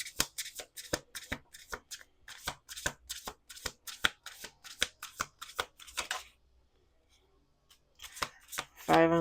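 A deck of cards is shuffled close by in quick, crisp riffling bursts, paused briefly, then picked up again with a final louder riffle.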